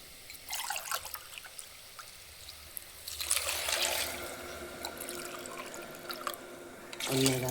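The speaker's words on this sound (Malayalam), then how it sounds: "ഒന്നേകാൽ ഗ്ലാസ് വെള്ളം ഒഴിച്ചു." Water poured from a glass into a cooking pot for macaroni, a splashing, trickling pour that starts and stops in bursts, close and moderately loud in a quiet kitchen.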